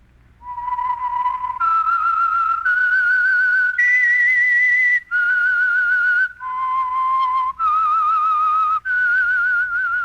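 Someone whistles a clear, slow tune alone, the theme of the radio drama The Whistler, with sustained notes rising and falling and brief pauses between phrases.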